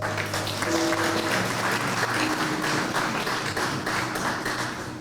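Sustained applause from a crowd at a donors appreciation banquet, many hands clapping steadily and fairly close for the full stretch, with a faint tonal hum and no clear speech over it.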